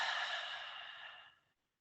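A roomful of people at a speech exhale together after a deep breath, one long, airy breath-out that fades steadily over about a second and a half into silence.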